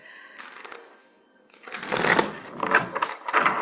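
Papery riffling bursts of cards being shuffled, several quick passes close by, starting soft and growing louder toward the end.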